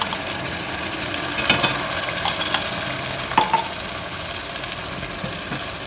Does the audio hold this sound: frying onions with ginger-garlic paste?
yes